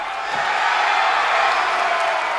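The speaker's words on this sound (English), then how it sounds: "Crowds enjoying seeing them ready to go" Continuous broad crowd roar at a bucking bull event, dense cheering and whooping from a large audience held steady at close range throughout, with no distinct voices standing out.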